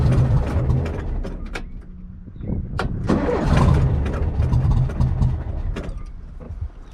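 A classic Volkswagen Beetle air-cooled engine cranks and catches with the rear deck lid propped open, settling into a rough, loud idle with mechanical clatter and a few sharp knocks nearby.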